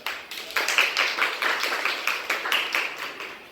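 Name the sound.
students clapping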